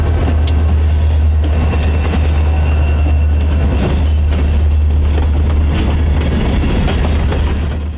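A Union Pacific potash freight train rolls past near Corona Arch, outside Arches National Park, a loud, close, continuous rumble of wheels on rail with rhythmic clickety-clack and occasional wheel squeal.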